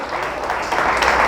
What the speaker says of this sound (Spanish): Vamos a darle un fuerte aplauso a esos santos